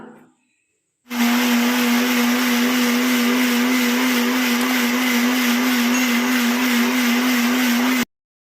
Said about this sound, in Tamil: இப்போ நம்ம மிக்சியை மூடி வெண்ணெய் எடுக்க நம்ம ஸ்டார்ட் பண்ணிடலாம்